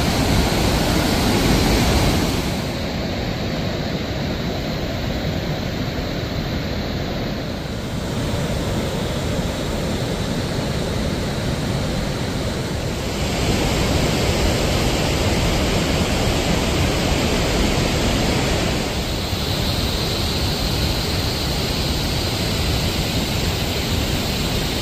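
A large, swollen mountain river rushing alongside the Api Himal base camp trail in far-western Nepal, a loud, unbroken roar of churning water that fills the whole scene with no voices.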